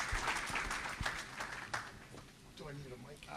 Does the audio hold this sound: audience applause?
yes